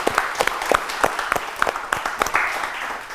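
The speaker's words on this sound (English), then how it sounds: "Please clap for both the team." Scattered applause from a crowd at a Ramadan quiz show semi-final, uneven claps rising and falling over a few seconds, with no one speaking.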